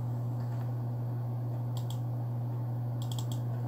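Short bursts of computer keyboard keystrokes while entering an Excel 2021 formula, two quick clusters of clicks over a steady low electrical hum.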